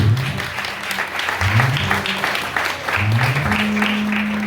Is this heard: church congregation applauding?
yes